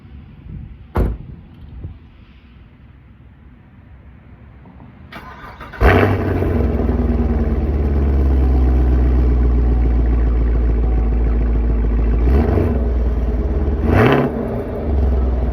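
Stock exhaust of a sixth-generation Chevrolet Camaro SS before an MBRP axle-back install: after a couple of clicks and a quiet stretch the engine fires with a loud burst, settles into a deep steady idle, then gets two brief revs near the end.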